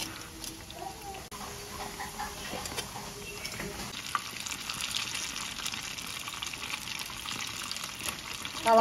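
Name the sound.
snack frying in oil over medium heat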